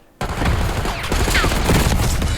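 Continuous gunfire in a Black Ops 6 ranked match on the Hacienda map, a loud, dense burst of rapid shots that starts abruptly and keeps going with no break, with faint voices underneath.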